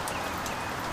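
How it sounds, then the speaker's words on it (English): Heavy rain pours down in a steady, dense hiss with scattered drops pattering on surfaces, continuous and enveloping with no voices over it. "It's freaking raining like crazy."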